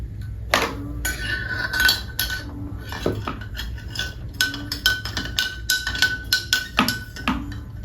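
A utensil stirring in a bowl, clinking and scraping in a quick, fairly regular rhythm of metallic taps, close and clear with a few louder knocks and no talking.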